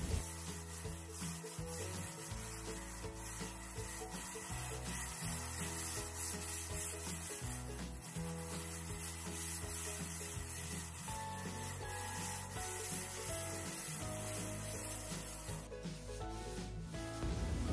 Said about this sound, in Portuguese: agora nós vamos lixar a parede com a lixa 80. Eu gosto de lixar com essa lixadeira manual